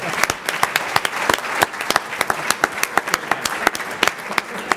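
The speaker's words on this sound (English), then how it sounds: "Let's get another round of applause for this outstanding guy." An audience at an award ceremony in Phoenix applauds, a dense round of clapping with many sharp individual claps standing out, loud and sustained throughout.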